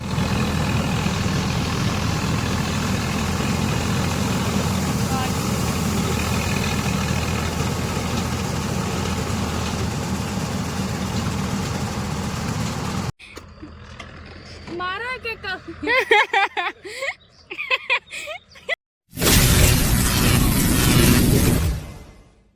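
A combine harvester at work during the wheat harvest: a loud, steady diesel engine drone with heavy low rumble runs unbroken for about thirteen seconds, then gives way to choppier, uneven bursts of sound.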